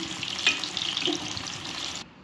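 Fish pieces fry in hot oil over a low flame, giving a continuous close sizzle that drops away abruptly near the end.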